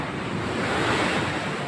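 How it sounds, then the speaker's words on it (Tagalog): Strong waves surge into a box culvert beside a seawall under construction, a dense, continuous roar of churning water and wind filling the clip. "Matindi ang alon dito."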